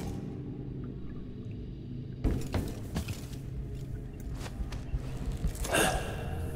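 Corvo pants in the video game Dishonored 2 with a few heavy, breathy gasps and sighs. They follow a sudden start partway through, set against low ambient rumble and faint clicks.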